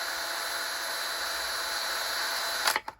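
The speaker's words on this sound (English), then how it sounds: "a spot that you can just have the drill where it's not catching" Electric drill spinning steadily while cleaning 1:100 scale model hand rails, a continuous even whir close by that cuts off abruptly at the end with a couple of clicks.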